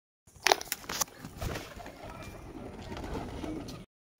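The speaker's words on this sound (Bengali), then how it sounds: "ধরা পায়রা আছে, পায়রাটা বাম্পার পায়রা আছে, নর পায়রা" A male pigeon coos close by, with a couple of sharp sounds near the start followed by a steady low murmur of soft cooing and faint background noise.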